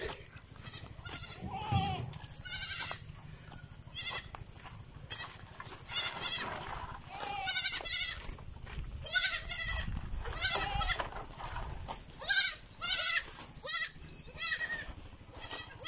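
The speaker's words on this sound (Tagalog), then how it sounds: "At sumunod yung mga anak ng kambing" Several young goats bleat repeatedly, overlapping high cries at varying distances over a constant low background hum.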